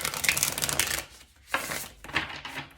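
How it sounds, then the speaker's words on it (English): A tarot deck is shuffled by hand in a few close, papery riffling bursts with short pauses between them, and no one speaks. "I will give the deck a couple more shuffles here"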